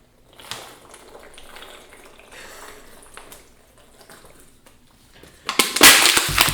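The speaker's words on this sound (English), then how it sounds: "That's a lot of water, man." Water rushing in a sudden loud gush near the end after quieter, scattered sounds, a broad, heavy pour close by.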